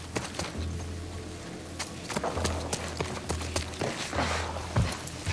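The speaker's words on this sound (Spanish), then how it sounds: "Mira, se ha quedado el caballo." Horse hooves clip-clop in The Last of Us Part II, a run of uneven hoof thuds at close range over a low hum, with a few heavier knocks.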